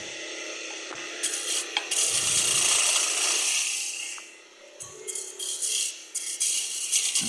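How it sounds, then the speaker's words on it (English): Metal parts clack and rattle as the tool rest on a wood lathe is loosened, slid and locked. The sound comes in short, close bursts separated by brief pauses. "I'll adjust my tool rest so I can just finish those up"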